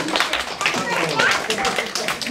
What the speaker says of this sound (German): Großer Applaus für euch alle.